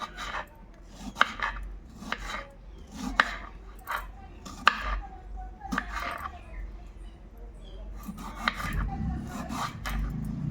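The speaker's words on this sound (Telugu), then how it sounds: "తర్వాత టమాటాలు కట్ చేసుకుంటున్నాను." A knife chops through ripe tomatoes on a cutting board, about half a kilo of them for tomato dal, giving a steady series of close, crisp cuts and board knocks with faint background noise.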